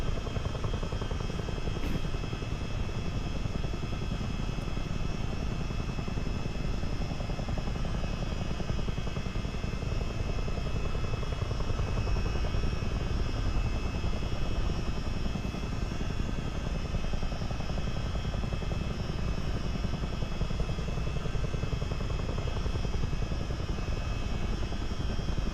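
Rotors of a CH-47D Chinook helicopter in a flight simulator drone in a loud, unbroken whir with a steady engine hum underneath, lasting throughout with no talking.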